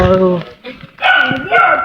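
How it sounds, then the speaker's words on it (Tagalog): A dog barks and yips in short close bursts beside a parked car at the edge of the jungle, mixed with excited human voices. "may aso guys"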